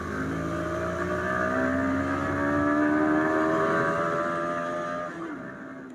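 A Bajaj Pulsar 160 NS motorcycle is ridden, its engine droning steadily and climbing gently in pitch as it pulls, then easing off near the end, with no talk over it.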